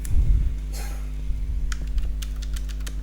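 Light plastic key clicks on a computer keyboard, typing a text label into a Delphi 2010 report designer, come in a quick irregular run over a steady low electrical hum.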